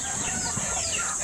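Gamefowl chicken on a rural Philippine farm, a brief cluck over steady ambient hiss and hum, moderately close, without speech.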